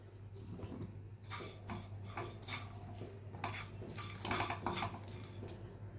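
Cardamom, cloves and a piece of cinnamon are dry roasted in a pan, heard as faint, close metallic scraping and rattling strokes of a utensil against the pan in quick irregular bursts.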